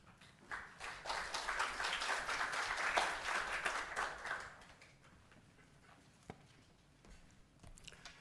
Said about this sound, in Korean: 목사님 나오실 때 우리 박수로 환영하겠습니다.